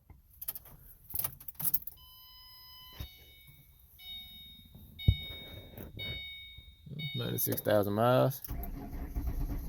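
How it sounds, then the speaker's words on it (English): A Ford Mustang's engine is started with the key: faint key and handling clicks, a quiet stretch, then a rhythmic cranking that catches into a steady running idle, with someone talking nearby. "I can at least turn it so you can hear that it is running."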